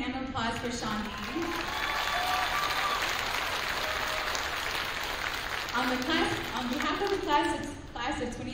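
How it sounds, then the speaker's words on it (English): A graduation audience applauds in a steady, full round of clapping, with voices speaking over the start and again near the end. "let's get a little round of hand applause for Shawnee"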